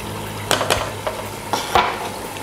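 A spoon stirs hot chili into shito, a Ghanaian black pepper sauce, as it fries in a pan, with several scraping strokes over a soft background sizzle, close by, and no speech.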